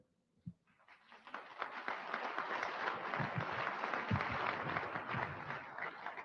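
Sustained applause from a large audience at a 1958 speech by Robert Welch in America, steady dense clapping building after a brief pause and filling the whole stretch without talk.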